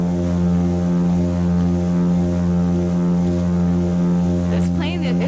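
An old propeller plane drones loudly and continuously, with a steady, deep, layered engine tone that never lets up. A brief voice cuts in near the end.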